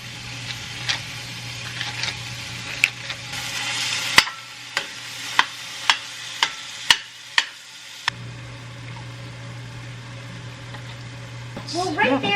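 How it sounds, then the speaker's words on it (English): Meat with minced onion, salt and pepper frying in hot oil in a pan, a constant sizzle under a low hum, punctuated by sharp clicks and taps of stirring, with a voice speaking at the end. "I'm gonna get that hot, and then I'm gonna add in the meat"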